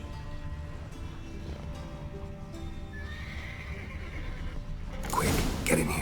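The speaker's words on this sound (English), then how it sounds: "Gotta calm all the horses before they wake the guards." Horses in a stable on Bald Mountain in The Witcher 3: Wild Hunt whinny and shuffle their hooves. Faint creaks and movement build into a loud, close neigh near the end, with a brief spoken line over the ambience.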